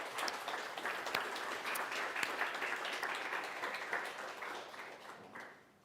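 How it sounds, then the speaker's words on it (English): An audience at a frontend developer panel talk applauds the panelists with a dense, sustained round of clapping that holds steady and then fades away at the end. "So warm applause for our lovely panelists for tonight."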